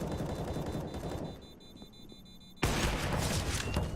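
Gunfire in a professional Counter-Strike match, with steady rattling shots, then a quieter lull with a few faint reports, then a sudden loud burst of dense firing that carries on to the end.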